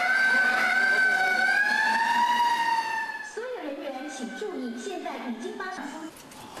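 A fire alarm siren wails at night in Ji'an, Hualien after an earthquake set it off. A loud rising and falling tone fills the first three seconds, then a speaking voice takes over as the siren fades.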